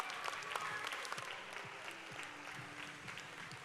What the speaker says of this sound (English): Give a round of applause to 23535, the Titans.